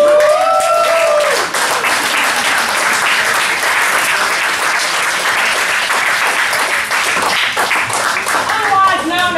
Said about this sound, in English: I want y'all to give a huge round of applause to Carl Reddish.